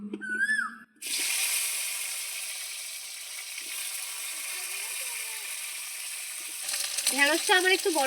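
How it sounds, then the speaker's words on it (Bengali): Cut pieces of okra drop into hot oil in a pan and set off a sudden loud, steady hiss of frying that holds close and even for several seconds. Someone speaks briefly before it starts and again near the end. "তেলটা গরম হয়ে গেছে এবার আমি গুলোকে ভেজে নেব"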